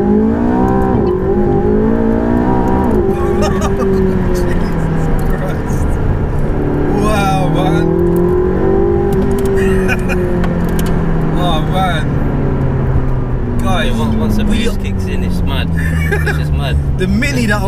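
A McLaren 675LT supercar revs and accelerates, its engine note climbing and falling through gear changes, heard from inside the cabin under near-constant conversation.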